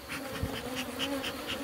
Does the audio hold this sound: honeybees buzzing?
yes